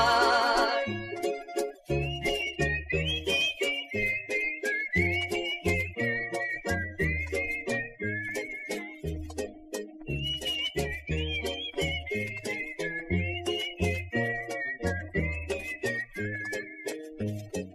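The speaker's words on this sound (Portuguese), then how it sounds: "se o disco quebrar temos que assobiar" A whistled melody from a 1973 song carries a bright, wavering tune over a steady rhythmic backing, sustained and prominent throughout with brief pauses between phrases.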